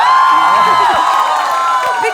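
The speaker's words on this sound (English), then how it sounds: "Big cheer for you, big cheer." Studio audience on a comedy game show cheering loudly throughout, a broad steady roar of crowd noise with scattered whoops and shouts, no clear speech on top.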